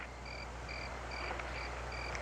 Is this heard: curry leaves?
no